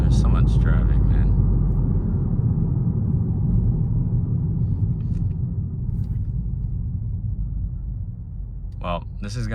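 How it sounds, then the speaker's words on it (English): Inside a 2022 Mazda 3 hatchback with a 2.5L engine and front-wheel drive, sitting in traffic, a constant low cabin rumble drones steadily while someone talks over it. "there's so much traffic, man."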